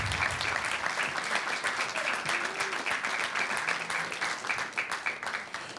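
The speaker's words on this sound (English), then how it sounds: "We'll give you a big round of applause." Sustained applause from an audience at a school district board meeting, dense steady clapping filling the room for about six seconds with a few faint voices underneath.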